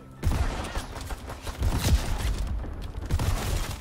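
Gunfire crackles in Call of Duty: WWII during sniper play, several sharp reports with rumbling echoes spread over a few seconds, and no talk.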